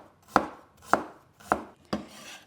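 A knife cuts long, thin slices from unpeeled fresh ginger on a cutting board, four crisp, evenly spaced chops close up, with no talking.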